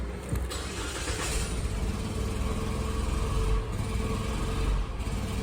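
A Mitsubishi Outlander with a P0657 fault code idles, giving a steady mid-level engine hum with slight swells and a brief shift near the start, close by and with no talking.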